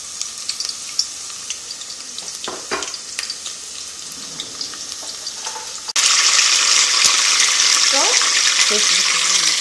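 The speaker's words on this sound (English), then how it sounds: "And now you just add the onions." Chopped onions dropped into hot oil for jollof rice, a steady sizzle that jumps sharply louder midway as they hit the pan, with a brief spoken word early on.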